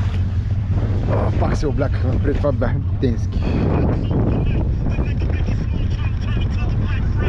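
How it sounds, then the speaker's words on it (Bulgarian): Strong north wind gusting over the sea around a small fishing boat, a steady roaring wash with mic buffeting throughout, while people talk close by over it. "излезе северен вятър."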